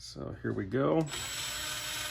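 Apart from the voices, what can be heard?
drill boring holes during laser build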